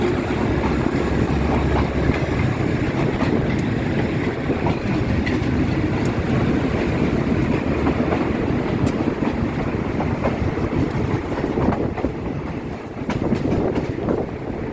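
Trains 209 and 985 run side by side as they leave Bang Sue in Bangkok, with 985 hauled by locomotive GA 4530. A loud, continuous rumble and rail clatter carry on throughout, with gusts of wind noise.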